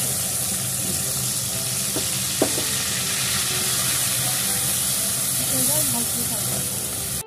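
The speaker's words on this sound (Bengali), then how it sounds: "আমার রসুন আর কাঁচা লঙ্কাটা ভাজা ভাজা হয়ে গেছে" Garlic and green chilies fry in hot oil with a loud, steady sizzle and hiss that runs throughout. A single metallic clink is heard near the start.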